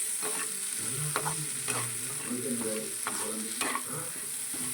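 Half a tomato sizzles in hot oil in a pan while a spoon stirs it in steady, repeated scraping strokes, heard close with no talking.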